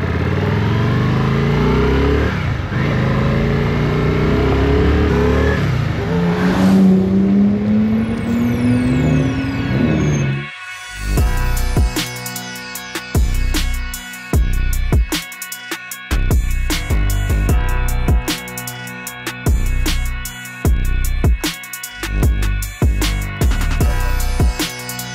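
A Yamaha Virago motorcycle with newly fitted straight handlebars revving and accelerating away, engine note rising under load, followed by a rhythmic, broken series of clicks or knocks with short gaps.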